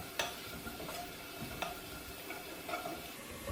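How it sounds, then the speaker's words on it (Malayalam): Carrots sautéing in a pan for a tomato egg rice lunch-box dish, heard as a low, steady sizzle with a few light taps of a spoon against the pan, quiet and close. "കുറച്ച് കളർഫുൾ ആയിക്കോട്ടെ എന്നോർത്ത് ഞാൻ ക്യാരറ്റാണ് ചേർക്കുന്നത്."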